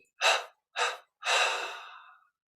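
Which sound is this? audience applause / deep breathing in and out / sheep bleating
deep breathing in and out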